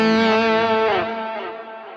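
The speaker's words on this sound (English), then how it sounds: "Let's add a little bit of reverb to that." Electric guitar played through a Tone King Imperial preamp pedal with reverb added, a single sustained chord ringing out with a rich harmonic tail that slowly decays over two seconds, no voices.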